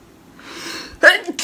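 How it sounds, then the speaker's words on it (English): A single person's sneeze, preceded by a soft rising inhale and ending in a sharp, close burst with a brief trailing breath. "I have to sneeze."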